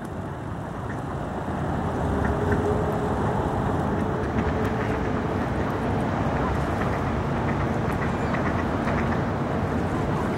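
Outdoor scene with geese and a wild duck honking and calling amid a steady background wash of traffic-like noise, voices faintly mixed in.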